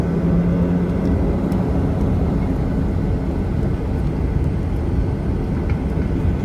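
Cabin sound of a Ryanair Boeing 737-8AS decelerating on the runway after landing at London Stansted, a loud, steady low rumble and roar throughout with no breaks.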